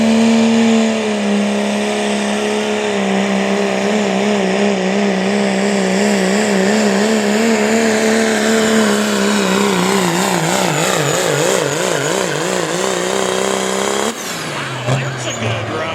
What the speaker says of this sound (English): the Limited Pro Diesel Trucks. A Dodge Ram out of Republic, Ohio, sponsored by JEB